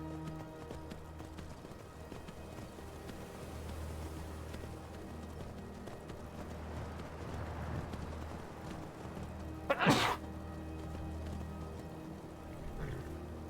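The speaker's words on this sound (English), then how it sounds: "All right, come along, ghost horse." Horse hooves clip-clop steadily in Skyrim, a soft, even rhythm under a low ambient hum, with a brief louder burst near the end.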